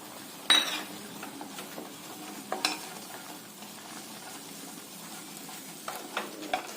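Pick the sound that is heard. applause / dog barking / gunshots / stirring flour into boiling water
stirring flour into boiling water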